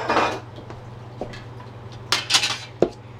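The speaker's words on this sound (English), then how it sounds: "This middle part here is basically just a stainless steel skewer, and this skewer holds the tongs" A stainless steel skewer holding cooking tongs on a woodgas biomass stove clinks and clatters in sharp metallic taps, a few scattered knocks with a cluster of rattling near the end, close by and without talk.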